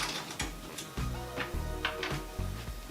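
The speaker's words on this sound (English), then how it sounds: "So we're just going to take off this front panel first, just unscrew it here." A screwdriver backing out the front panel screws on a low-end PC case, giving a run of short dry clicks and ratcheting turns in uneven bursts, close and fairly quiet, with no talking.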